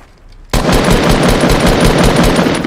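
Rapid automatic gunfire from a video game bursts in abruptly after a brief near-silence, a loud, steady stream of closely spaced shots.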